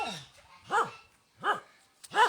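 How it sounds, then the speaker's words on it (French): Dogs bark in a Thai farming village, with three or four separate loud barks spaced evenly apart, close by, and quiet between them. "et les chiens thaïlandais."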